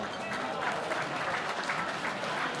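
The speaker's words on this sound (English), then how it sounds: "Could we please have a round of applause for the legendary Amir Khan?" Crowd applause at a boxing knockout night in Dubai, a dense steady clapping wash throughout the short stretch, moderately loud and a little distant, with faint voices mixed in.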